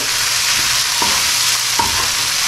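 Cluster beans (gawar phali) frying and being stirred in a pan, with a steady close sizzle throughout and a couple of brief scraping stirs standing out, no voices.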